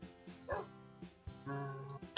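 Tamed wolves in Minecraft 1.9 snapshot give several short yips and barks with a whimper, quick bursts spaced across a couple of seconds, close and clear with no talking.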